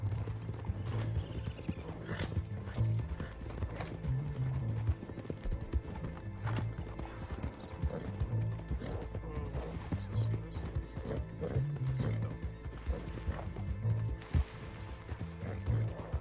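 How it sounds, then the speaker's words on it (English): A horse gallops in Red Dead Redemption 2 Online with loud, rhythmic hoofbeats that run throughout. Whinnies and neighs recur over the galloping, and faint voices sit in the background. "my horse has made an epic jump"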